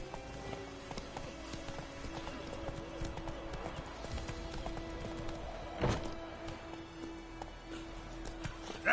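Roach the horse gallops in The Witcher 3: Wild Hunt, with close, rhythmic clip-clop hoofbeats, a loud thud near the middle and brief bits of speech around them.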